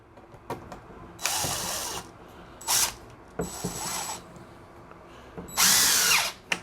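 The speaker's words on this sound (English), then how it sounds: "Just drill it." A power drill whirs through timber in several short bursts of rising and falling pitch, loud and close, with brief pauses and clicks between runs.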